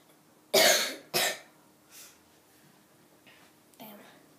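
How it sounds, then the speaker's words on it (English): A person with a bad cold coughs twice, loud and close, then gives a few fainter coughs and throat noises over a quiet room background. "If you hear me coughing in the background,"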